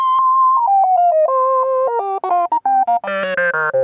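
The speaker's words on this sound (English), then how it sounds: "In this video I'm going to show you how to make a funky lead using Formant." A funky synth lead built with the Formant synth in Phase Plant plays a bouncy melodic phrase of short, clean gliding notes, alone and close, growing brighter and richer toward the end.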